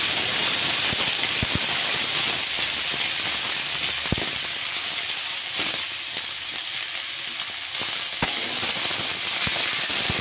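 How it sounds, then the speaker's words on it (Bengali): Cut potatoes go into hot oil with lightly fried chopped onion, raising a loud, steady, close sizzle with dense crackling and popping that continues throughout. "হালকা ভাজা হলে এটা দিয়ে দিচ্ছি আলু, কেটে রাখা আলু"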